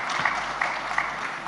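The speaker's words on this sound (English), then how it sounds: "So that's Lanka, and I think now she deserves an applause, and Bandhan too." An audience at a live summit applauds steadily throughout, a dense wash of clapping from a hall crowd.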